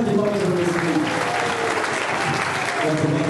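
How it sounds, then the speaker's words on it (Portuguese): A live audience applauds loudly after a song, a continuous roar of clapping with some lingering musical tones and voices mixed underneath. "Uma salva de palmas pra vocês."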